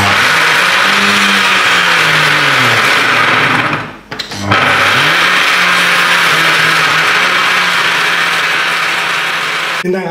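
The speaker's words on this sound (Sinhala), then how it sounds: "දැන් ඔන්න ඉතින් ඔක්කොම බ්ලෙන්ඩර් කරගන්නයි තියෙන්නේ." An electric blender grinds sambol ingredients, including tomato and other mixture, with a loud, steady whirring motor that cuts out briefly midway and then resumes at full strength.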